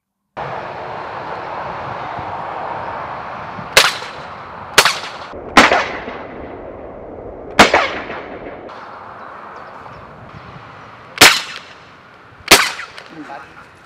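A Piexon JPX 4 pepper spray gun fired live outdoors, six sharp, loud cracks spaced irregularly over a steady background hiss, each shot trailing off quickly.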